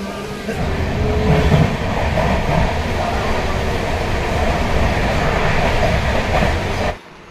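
A passenger train pulls away and runs along the rails with a loud, steady rumble and rhythmic clatter that continues evenly before dropping off suddenly.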